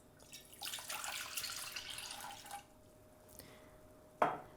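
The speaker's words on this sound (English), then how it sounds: "I'm going to add in the half a liter coffee I've just made." Half a liter of freshly made coffee poured into a medium-sized pot, a steady splashing stream for a couple of seconds that tapers off, then a brief clink near the end.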